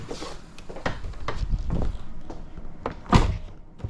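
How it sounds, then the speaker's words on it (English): Several dull thuds and knocks ring out in irregular succession, with one louder solid thump near the end as a Tesla door shuts. "The door is able to shut."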